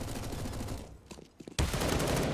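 AK rifle fire in a CS:GO match crackles in dense rapid bursts, a sustained volley that drops to a few scattered shots before another loud burst erupts, with no talk.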